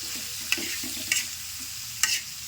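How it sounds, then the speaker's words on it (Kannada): Onions fry on a flat tawa with a steady sizzle as a metal spatula scrapes and flips them, giving three sharp, close scraping clicks with no talking. "ನಾನು ಚಾಕುಲಿಂತ ತಿರುಗಲಗತ್ತೀನಿ ನೋಡ್ರಿ ಯಾಕಂದ್ರೆ ಹಂಚಿನಾಗ ಉಳ್ಳಾಗಡ್ಡಿ ಚಂತಿನ ತಿರುಗಕ್ಕೆ ಹೋದ್ರೆ ಬಿಡ್ತಾವ್ರಿ"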